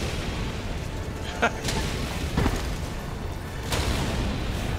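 Several distant booms and sharp bursts go off over a steady rumbling background in the video game Helldivers 2, with scattered impacts spread across a few seconds.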